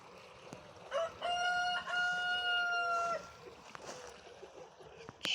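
A rooster crows loudly and nearby in one long, drawn-out call at a henhouse, followed by a few soft clucks from hens.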